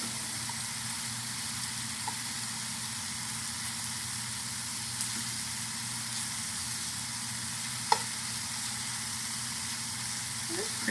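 Pork tenderloin sizzles steadily in a hot pan, a close, even hiss of frying with faint scattered pops and a couple of small clicks.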